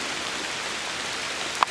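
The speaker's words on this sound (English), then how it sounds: "Perfect rain, perfect timing." Steady rain falls on a planted oat food plot in the woods, an even, close hiss of drops throughout with one brief sharper drip near the end and no talking.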